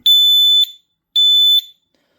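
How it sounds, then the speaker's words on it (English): A Vodafone Cobra 5365 wireless battery-backup siren gives two short, loud electronic chirps on arming, each a clean piercing tone about half a second long with a brief gap between, alone in an otherwise silent space. "so that just beeps twice for arm"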